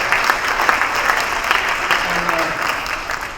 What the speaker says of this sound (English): I want to first of all get applause for all the inductees up here.